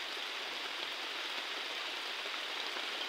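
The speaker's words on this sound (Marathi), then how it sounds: "जोरदार पावसाचं आगमन झालेलं आहे आज" Heavy monsoon rain pours steadily at Panhala, a dense, even hiss with no breaks and no voices.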